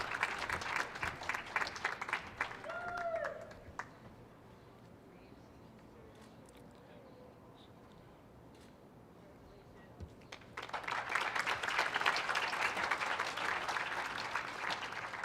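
A cheering section applauds a graduate at a baccalaureate commencement ceremony, a burst of clapping that fades to near quiet before a second, denser swell of applause rises and holds.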